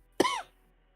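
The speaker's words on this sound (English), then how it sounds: "you get to hear me cough in louder volume too" A single short, sharp cough, close and dry, ending quickly in a brief rasp against a quiet background.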